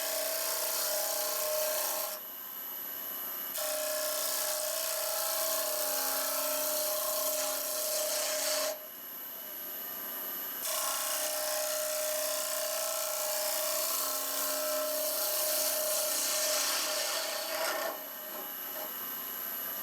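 A wood lathe turns an olive burl while a tool cuts into the spinning wood, giving a loud, close, sustained scraping and rasping whir that drops away twice during brief pauses and then resumes.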